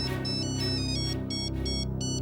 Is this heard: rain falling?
no